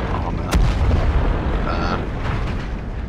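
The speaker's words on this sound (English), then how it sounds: "That was just me driving over something that exploded." A single sharp explosion bursts beneath a tank in a video game as it drives over something, a loud booming crack followed by low rumbling engine noise, with no voice.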